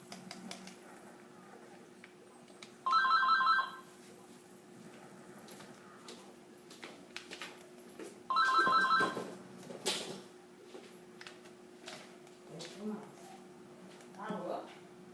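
Two bursts of an electronic telephone ring about five seconds apart, each roughly a second long and fairly loud, with quieter clicks and room sounds between them while someone talks intermittently.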